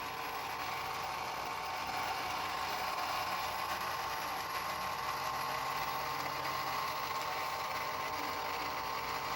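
Hy-Gain Ham IV antenna rotator motor running as it turns east, a continuous mechanical hum and gear whir at moderate level, steady throughout with no speech.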